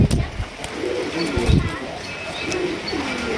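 Pigeon cooing among the birds at a pigeon dealer's coop, low murmuring coos repeating over a busy background with someone talking nearby.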